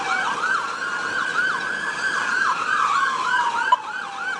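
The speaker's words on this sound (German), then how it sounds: "Begleitet von den Sirenen der Polizei" Police sirens during a car chase through city streets, a loud, near siren wailing in quick repeated sweeps over a steady engine and road rumble, ending with a brief sharp knock.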